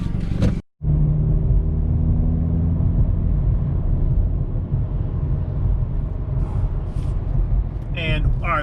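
A Hyundai Veloster driving along, with steady low road and engine rumble filling the cabin throughout, a brief cut near the start, and faint voices or sounds at the end.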